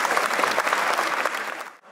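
A crowd at the Grüne Woche fair in Berlin applauds in welcome of the Minister-President of Saxony-Anhalt, a short, loud burst of clapping that cuts off abruptly at the end.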